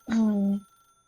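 A telephone in the video game The Stanley Parable gives one short, loud, tonal ring lasting about half a second, then fades into quiet.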